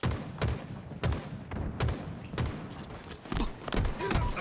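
Gunfire in the shooter game Halo during a ranked Arena match: steady, evenly spaced heavy shots, about two per second, punchy and close, with a thudding low end and no talk over them.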